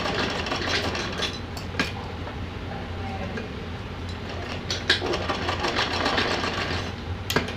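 Sewing machine stitching a small cap for a doll dress, running in a steady, continuous close-up whir with a fast mechanical tick throughout.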